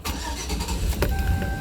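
A Chevy Express van's engine cranks and catches, a low rumbling start heard close by that settles into an idle after a brief whine.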